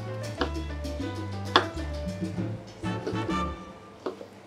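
Vegetables being chopped with a knife on a board for Spanish cod with stewed vegetables, a run of close, uneven knocks and taps with a voice talking over them.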